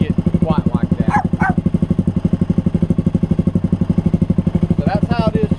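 A 2019 Suzuki King Quad 750 ATV fitted with an HMF Swamp Series XL exhaust idles steadily, its close, loud, even thumping pulse running throughout, with a few faint higher sounds over it.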